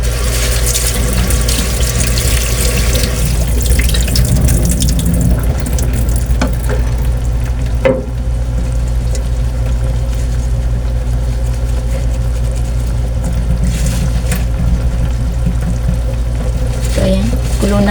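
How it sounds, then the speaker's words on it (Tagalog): Sweet potato leaves and mackerel sardines are being sautéed in a pan, heard as a loud continuous sizzle and bubbling with a low steady rumble underneath and an occasional clink of a utensil. "kulo na guys"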